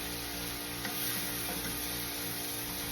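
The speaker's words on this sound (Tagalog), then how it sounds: "magpiprito ka muna ng mga hipon" Shrimp frying in hot oil for salt and pepper shrimp, giving a steady close sizzle that runs without a break, with a few soft stirring clicks on top and no voices.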